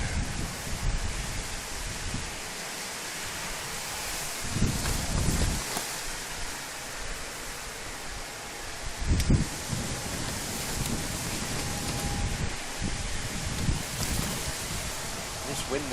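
Wind blowing at Manchester Airport, a steady broad rush with louder gusts buffeting the microphone, while people talk now and then underneath.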